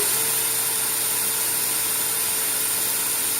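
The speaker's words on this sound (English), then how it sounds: "See how I'm allowing the drill, while maintaining back pressure, to draw the wire in" A power drill runs steadily, a continuous high whir with a motor hum beneath, twisting wire into a coil under back pressure, without pause or speech.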